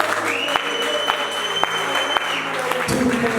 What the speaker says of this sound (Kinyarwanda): Tumukomeye amashyi dushima.